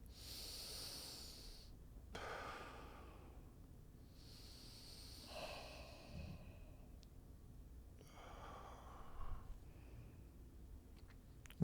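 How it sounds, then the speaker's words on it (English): Slow, deep breathing during a meditation session, several long nasal inhales and exhales heard close and quiet, spaced a few seconds apart with soft hissing air and no talk. "Just keep breathing."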